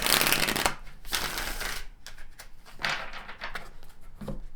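Tarot cards being shuffled and drawn during a reading, with dense papery riffling bursts that come in several waves, close and fairly loud, with no talking.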